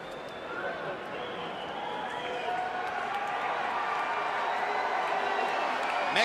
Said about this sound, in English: Mexican fans booing Pacquiao as he stands up on the ropes to celebrate.